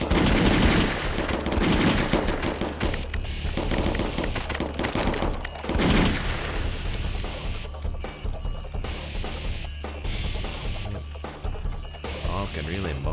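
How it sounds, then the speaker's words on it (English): Rapid bursts of gunfire in the indie video game Bob the Schizo, dense automatic volleys early on thinning to scattered shots and clatter later, loud and close with talk mixed in. "Even with me firing what's left of my chamber to reload,"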